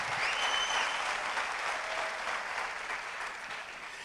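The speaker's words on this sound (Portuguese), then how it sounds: "dê para Jesus uma forte salva de palmas" A church congregation breaks into a strong round of applause, with a broad, continuous wash of many hands clapping that fades slightly toward the end, and no talk over it.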